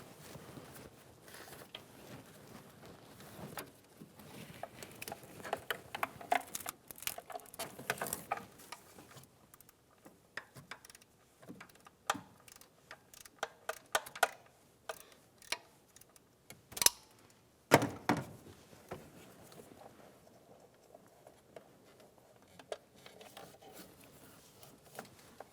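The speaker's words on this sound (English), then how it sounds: "Remove the 10mm bolts off of the side cover." A ratchet and socket turning out 10mm bolts from the engine side cover of a 2010-2015 Lexus RX350, with intermittent clicking and ticking pawl sounds and metallic taps, close and quiet, no talking.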